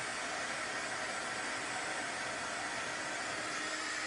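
A heat gun blasts hot air over embossing powder on a slimline Christmas card, a steady loud hiss that runs unbroken without pause.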